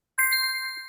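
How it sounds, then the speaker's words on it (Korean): A phone chiming for an incoming text message: one bright, clear ding that rings out and slowly fades, with no other sound around it. "문자 메시지가 왔네?"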